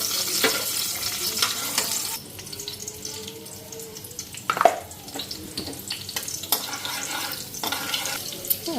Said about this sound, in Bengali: এদিকে আলুটা ফ্রাই করে নিছি, তেজপাতা দিয়ে নিই আর জিরা ফোড়ন দিই।